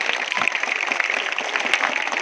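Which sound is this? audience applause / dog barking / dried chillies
audience applause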